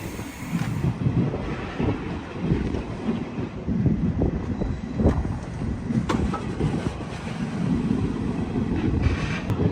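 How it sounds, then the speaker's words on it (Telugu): DEMU passenger train running on the Secunderabad to Siddipet line, a steady loud low rumble of wheels and carriage with wind noise throughout, recorded from on board. "ఇక్కడి నుంచి బయలుదేరాక మన ట్రైన్ లగ్డారం అయితే వెళ్తుంది."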